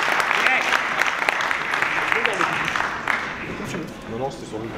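Audience applause for a vice-president at a territorial convention in Aubervilliers, a dense sustained clapping from a crowd in a hall, moderately loud, with voices faintly mixed in.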